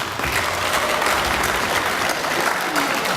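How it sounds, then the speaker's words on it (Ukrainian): A hall audience bursts into sustained applause at a Rusyn cultural studio event, dense clapping from many hands holding steady throughout. "Аплодисменти."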